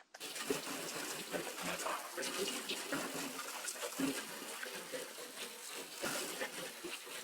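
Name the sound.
garden hose spraying water on a car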